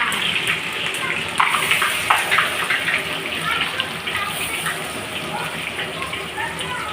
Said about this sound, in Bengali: তেজপাতাটা দিয়ে দিয়ে গরম মশলাটা লাল হয়ে গেছে, এবার পেঁয়াজটা ছেড়ে দিলাম।